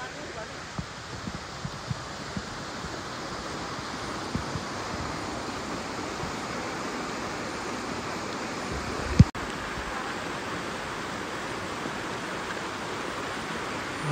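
Steady broadband rush of river water flowing at Sungai Ayam, Kemaman, Terengganu, a continuous moderate wash of sound throughout with a single sharp click partway through.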